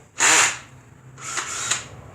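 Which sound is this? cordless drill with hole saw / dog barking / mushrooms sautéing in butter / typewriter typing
cordless drill with hole saw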